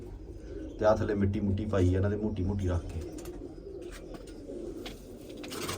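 Pigeons in a loft coo in low, soft throbbing calls behind someone talking close by, with occasional faint chirps and shuffling, the cooing fading once the voice stops.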